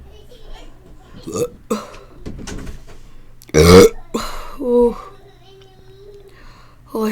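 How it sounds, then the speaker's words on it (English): Loud, drawn-out burps after gulping down a 2-litre bottle of soda, several deep belches standing out clearly with a few shorter ones between them, close to the mic and alone. "Maybe I just need to burp really,"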